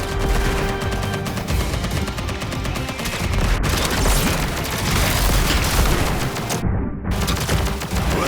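Sustained rapid gunfire from Contra: Operation Galuga, loud and dense throughout, with booming blasts as weapon pods are shot open, and a brief dropout of the highs near the end.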